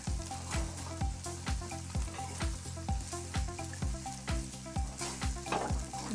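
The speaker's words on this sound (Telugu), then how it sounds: "బాగా కలిసిపోయేటట్టు బాగా తిప్పండి." Okra fries in a pan with chili powder, sizzling steadily while a spatula scrapes and stirs in a quick, regular rhythm of repeated strokes, close and fairly quiet.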